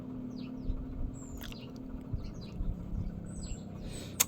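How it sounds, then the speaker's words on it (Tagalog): Small birds chirp and tweet in quick high notes, fairly faint and somewhat distant, over a low steady outdoor hum. "Nakikinig lang po kami sa mga huni ng ibon."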